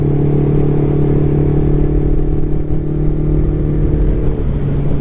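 A vintage Yamaha motorcycle running low on gas drones steadily at cruising speed, a loud, close engine hum with road and wind rumble and no break.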